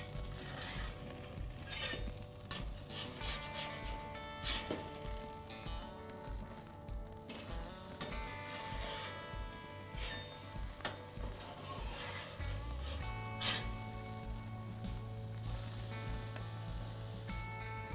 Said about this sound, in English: These burgers are and always have been cooked over a hot charcoal grill.